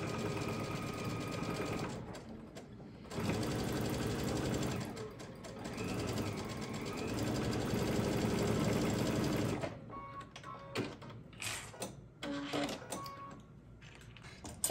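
A sewing machine stitches velcro onto a pillow in fast mechanical bursts, running for several seconds at a time, then pausing with short quick stops and restarts near the end.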